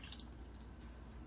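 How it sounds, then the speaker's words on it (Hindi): Water streams from a cup into sugar while jalebi syrup is being made, a brief liquid pour with a soft drip-like patter, close and quiet, with no talking. "तो 2 कप हमने चीनी ली है और इसमें 1 कप पानी डालेंगे।"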